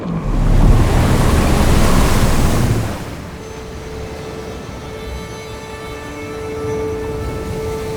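Surf-zone ocean waves break loudly in a broad wash for about three seconds, then settle into a quieter, steady shoreline rumble with faint tonal hum underneath.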